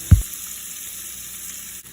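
Onions dropped into a hot pan for pasta sauce give a brief low thump, followed by a steady, moderate sizzle that carries on alone to the end.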